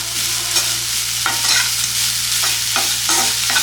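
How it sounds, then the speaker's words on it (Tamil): A spoon stirs broken jaggery and grated coconut in a hot pan for a kozhukattai filling, making repeated scraping strokes at an uneven rhythm over a low, steady sizzle, close and loud with no talking. "இது வெல்லமும் தேங்காயும் நல்லா மிக்ஸ் ஆகி"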